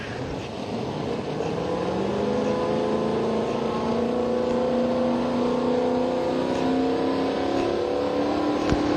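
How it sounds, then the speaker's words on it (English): A turbocharged drag racing car at the start line of an outlaw 10.5 drag race, its engine droning steadily and loudly as boost builds, the pitch slowly climbing over a continuous roar with no talking. "Little building the boost of the turbocharged machine"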